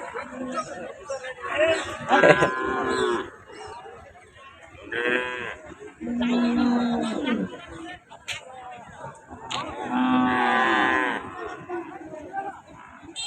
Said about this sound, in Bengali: এই জায়গাটা পুরো ছোট বাচ্চা গরু যাকে বলা হয় ছোট ছোট সার ষাঁড়গুলো